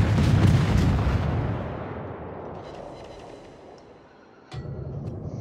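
Naval guns from the destroyer Benson boom in a warship video game during a fight with the Tirpitz: a loud opening blast rolls into a long fading rumble, and a second sharp report cuts in near the end.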